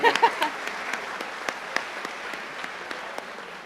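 An audience at a high school baccalaureate ceremony breaks into applause, strongest in the opening moments and then settling into a thinner, steady patter of scattered claps that continues on its own.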